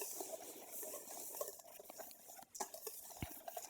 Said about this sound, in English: And we're just going to whisk that all together,